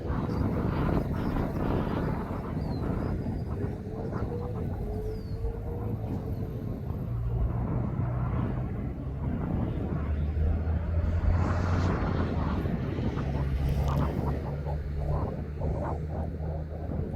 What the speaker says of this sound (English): And that's an ATR 72 600, and that's heading back to Belfast.